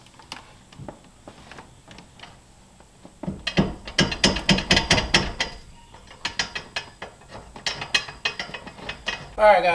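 A ratchet bolts hardware into a roll cage in a Porsche 997. Rapid clicking bursts come in several runs, loud and close, with brief pauses between strokes.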